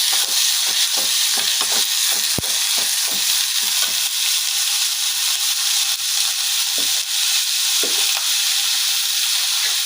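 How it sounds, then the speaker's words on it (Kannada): Tomatoes frying in a pan, a constant hissing sizzle broken by repeated spatula scrapes and stirring knocks, close and without speech. "ಇವಾಗ ಟೊಮೆಟೊ ಹಾಕ್ಕೊತಾ ಇದ್ದೀನಿ ಫ್ರೆಂಡ್ಸ್. ಚೆನ್ನಾಗಿ ಫ್ರೈ ಆಗಬೇಕು."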